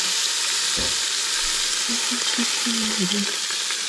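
Short ribs browning in a Ninja Foodi with the Smart Lid give a steady close sizzle and fry hiss throughout, with a brief clatter of tongs placing meat early on and faint clinks later.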